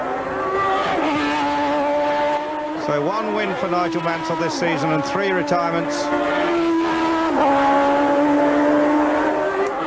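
Formula One cars racing at the Mexican Grand Prix, Autódromo Hermanos Rodríguez, including Riccardo Patrese's Williams Renault: loud, continuous engine whine with shifting pitch as cars pass, under steady commentary talk.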